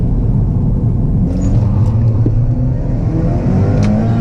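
A Cadillac ATS 2.0T with a ZZP throttle body accelerates at full throttle, its loud engine droning and rumbling continuously from inside the cabin.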